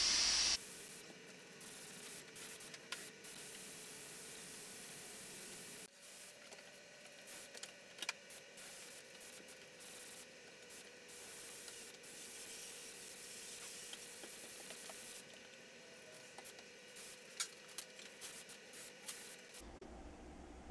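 A paint spray gun sprays clear coat mixed with metal flake, giving a faint, continuous hiss with small irregular spits and sputters over about twenty seconds.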